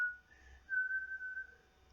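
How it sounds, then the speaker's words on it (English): A man whistles a short tune toward a window in a dark inn yard, a clear steady melodic line of sustained notes, near and alone in a quiet setting. "He whistles a tune to the window."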